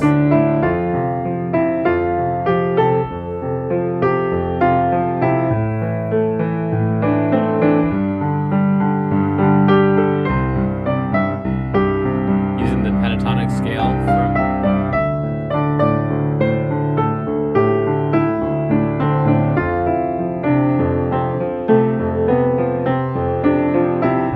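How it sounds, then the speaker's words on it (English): Steady piano playing with sustained chords and a moving melody, continuous and fairly loud throughout, with no voices. "If your piano playing sounds something like this"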